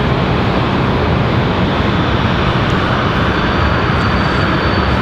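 A United Airlines Boeing 737 MAX 9 arriving at Raleigh-Durham airport, a loud, continuous broadband jet roar that holds steady throughout with no voices.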